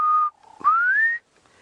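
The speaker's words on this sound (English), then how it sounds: "I'm hearing the black cuckoo," Distant black cuckoo giving its whistled call during a sunrise safari drive: a steady clear note, then a second note sliding upward, with no other sounds.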